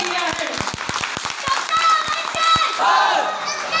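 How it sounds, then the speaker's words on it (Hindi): An audience breaks into loud applause mixed with crowd shouting and cheering, sharp individual claps standing out near the front while voices rise over the clapping. "अपने लिए एक बार जोरदार तालियां बजा सकते हैं"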